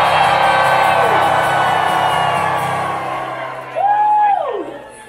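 A New York City concert crowd screams, whoops and cheers loudly and continuously, a dense roar that swells again near the end with a few sharp yells rising above it.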